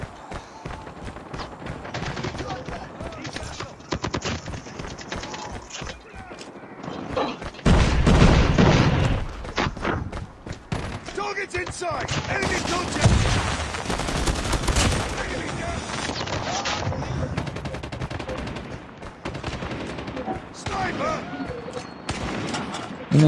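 Rapid bursts of video game gunfire crackle over a constant layer of busy game noise, with heavier booming volleys toward the middle.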